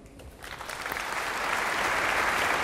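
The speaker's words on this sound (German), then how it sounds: "Der Beifall zeigt, wie sehr die Mainzer ihren Kardinal lieben." Applause in a church honouring the cardinal of Mainz at a festive service, starting sparse and quickly swelling into loud, sustained clapping from a large congregation.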